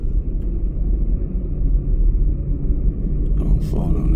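A car rolls slowly past, with a steady low engine rumble throughout and a brief rougher burst near the end.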